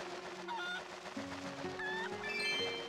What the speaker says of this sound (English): There's a chicken on it, I'm seeing.